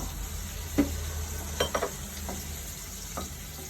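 Rava uttapam batter with salt being stirred in a bowl, a few soft scraping and tapping strokes over a steady low background hum, with no voices.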